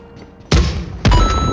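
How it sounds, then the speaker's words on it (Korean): Two heavy booming gunshots in PUBG Mobile, about half a second apart, each with a short rumbling tail. Loud, with no voices. "총소리 나는데 막"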